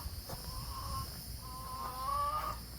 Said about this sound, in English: Here is the current setup of the chicken coop.